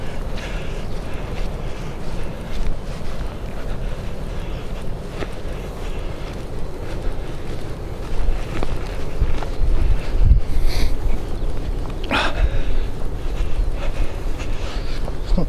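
Wind blows outdoors beside a small lake, a loud, steady buffeting rumble on the microphone with gusty swells. It runs continuously with no voice heard.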